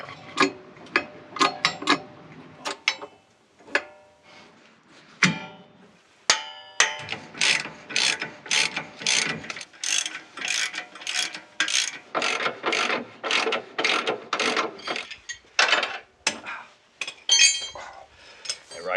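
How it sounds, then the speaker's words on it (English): A jack being pumped to lift the nose of a Land Rover Discovery 2 during radius arm suspension work, giving a close run of regular ratcheting clicks and metallic clinks in quick strokes, with pauses in between. "I think if we get a jack under the nose of it, lift it a little, and we'll see where we are from there."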